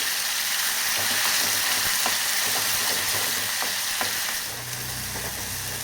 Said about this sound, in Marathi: चांगला मसाला असा तेलात तळू द्यायचा आहे.